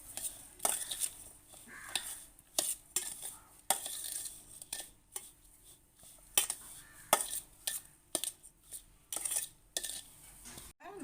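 Rava puttu is mixed with coconut, roasted cashews and sugar in a vessel, producing repeated scraping and clinking of a spoon against metal in an uneven rhythm, fairly quiet and close, without speech.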